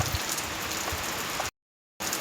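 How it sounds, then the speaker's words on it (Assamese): Heavy rain pours steadily onto surfaces in a constant close wash of noise, cut by a brief silent gap before it resumes. "ইমান বৰষুণ আহিছে।"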